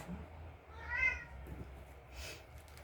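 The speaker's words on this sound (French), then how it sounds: "Ah, mon chat, il chante" A cat meows twice, a clear drawn-out call followed by a fainter shorter one, close by in a quiet indoor room with a low background hum and no talk.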